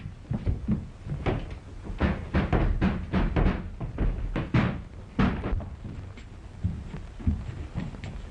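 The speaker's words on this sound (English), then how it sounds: "Open this door, I'll break it in!" Heavy, repeated thuds and bangs from a door being battered and forced open, loud and close in an irregular rapid series, in a 1933 mystery film setting.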